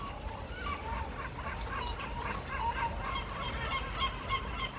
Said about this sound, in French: Il y a les mouettes qui volent dans tous les sens en criant.